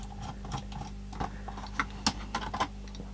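Small screwdriver turning tiny screws in a Philips Walkman AQ6519/00 cassette player, faint close clicks and light scratchy ticks with a low background hum, no talking.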